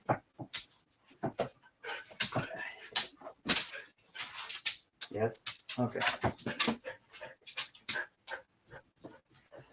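A dog whimpers and yips in short, repeated bursts, close by, with a person talking over it.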